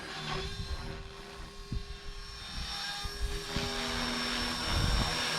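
Blade 330S radio-controlled helicopter in flight, a steady high whine of motor and rotor with a constant buzzing drone and small shifts in pitch and loudness throughout.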